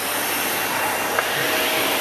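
A Dyson Cinetic Big Ball vacuum cleaner runs with a loud, steady high-pitched whine and airy rush, close and unbroken, at a 2015 QVC demonstration.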